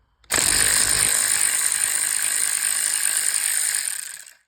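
A ratchet on a swivel extension clicks rapidly and steadily while removing spark plugs from a Kia Stinger engine, loud and close, running continuously for about four seconds before fading out.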